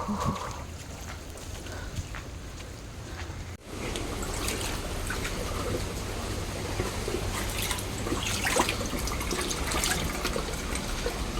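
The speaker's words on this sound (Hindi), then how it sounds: "यहाँ से पानी निकलता है, ऊपर से स्पीड से आ रहा है पानी।" Rainwater gushes out of a blocked balcony drain on a fourth-floor building during a storm, a steady close trickle and splatter that grows fuller after a brief dip, with no talking.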